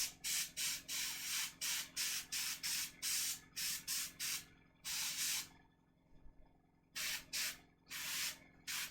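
Airbrush spraying paint onto a miniature in short hissing bursts, close and crisp, pulsing on and off in quick repeated strokes with a brief pause midway before resuming.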